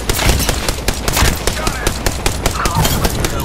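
Rapid gunfire from the Apex Legends video game during a close firefight. Dense, loud, overlapping shots crackle without pause for a few seconds, and game voice lines or talk may sit faintly underneath.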